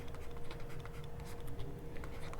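Writing on a board during a maths lesson produces a continuous close scratching and tapping of strokes, steady and moderately loud, with no talk over it.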